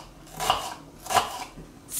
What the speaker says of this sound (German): dafür nehme ich ein Zwiebel, schneide ihn klein